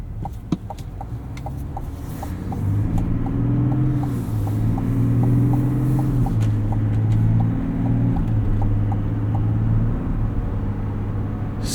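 A 2026 GMC Sierra 1500 Denali pickup with Duramax diesel and a 10-speed automatic drives along, giving a steady low engine rumble with rising and falling drone as it pulls through gears, plus a repetitive faint ticking in the cabin.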